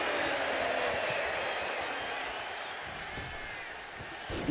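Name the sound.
crowd applause in WWE 2K25 video game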